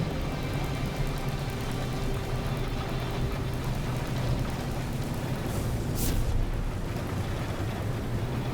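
Rain or hail pelting down in No Man's Sky, a loud continuous dense rush with a deep rumbling underlayer and one brief brighter swell near the end.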